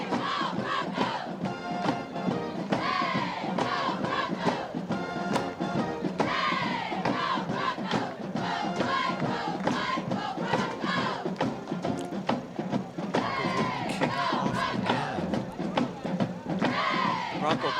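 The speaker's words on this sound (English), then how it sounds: "A lot of energy in the crowd tonight." Large crowd at a Davenport Broncos high school football night game roaring and shouting continuously, a dense, loud wash of many voices that never lets up.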